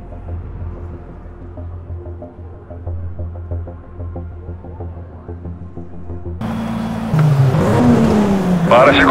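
A BMW 135i race car engine in the racing game Need for Speed: Shift idles and burbles under a voice, then roars into loud revving acceleration near the end.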